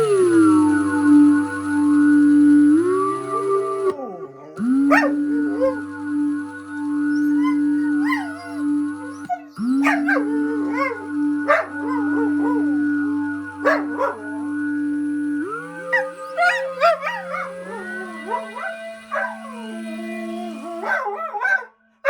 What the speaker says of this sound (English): But this is where the dog freaks out.